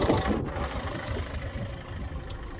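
A car engine idles steadily during a Revive Auto Spray engine treatment, a constant low rumble and hum throughout with no change in pace and no voices.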